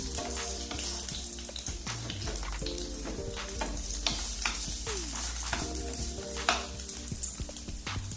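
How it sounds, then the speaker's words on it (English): Garlic sizzles as it drops into a hot pan, a steady frying hiss with occasional stirring scrapes and clinks, set against background music. "First we're gonna add the garlic."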